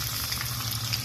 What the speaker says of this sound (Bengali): তেল গরম হয়ে আসলে কুচনো পেঁয়াজ, লঙ্কা এবং আদা দিয়ে দেবো